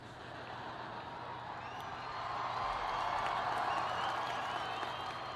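At a graduation ceremony at Arizona State University, a large audience cheers and applauds through a speech by Obama. The sound is a steady wash of clapping and crowd noise that swells slightly, heard from some distance.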